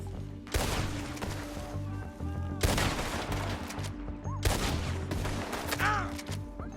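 Gunfire in a Red Dead Redemption 2 shootout among rocks comes in three loud bursts of rapid shots with echoing reports, separated by brief quieter gaps.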